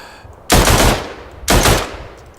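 Two loud bursts of gunfire with recoil in the Verdun video game, each a heavy roaring blast lasting about half a second and then fading, separated by a short pause.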